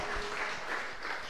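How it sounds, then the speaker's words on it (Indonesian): A church congregation claps for God during an Indonesian sermon, a steady wash of applause filling the short stretch with no break. "Beri tepuk tangan bagi Tuhan kita."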